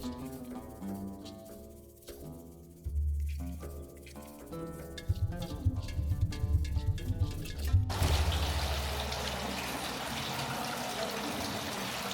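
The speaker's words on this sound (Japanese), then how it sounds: "これは水の音で会話を聞かれないようにするためだったそうです。" Running water in Murad III's salon at Topkapi Palace in Istanbul. Soft music fades out and gives way to a steady, moderately loud rushing flow that lasts to the end.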